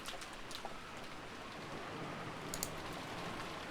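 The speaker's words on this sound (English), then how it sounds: "I began to remember the coldness of the raindrops that kept pounding down" Steady rain pours down in the video game Umineko, a dense, continuous hiss of drops with a few faint splashy accents, moderately loud and alone without voices.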